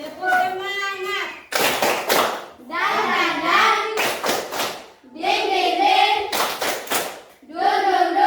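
Children in a classroom chant together in bursts, broken up by sharp, rhythmic group claps. Voiced chanting and patterned hand-clap phrases alternate loudly and close by.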